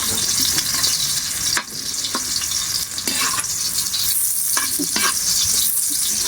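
Unpeeled garlic cloves fry in hot oil with a loud, dense, continuous sizzle, close up, broken by a few stirring scrapes and brief dips, with no talking.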